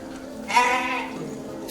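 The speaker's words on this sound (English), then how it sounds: "Farmers were rearing nondescript breed of goats." A single goat of a nondescript local breed bleats on a farm in Gadag district, Karnataka, one close wavering cry of about half a second over faint background noise.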